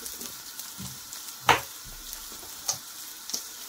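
Cumin powder sizzles in a frying pan while a chal kumro (ash gourd) curry is being made. The frying is a soft, continuous crackle, with a sharp spitting pop in the middle and a few smaller ticks later. No one speaks.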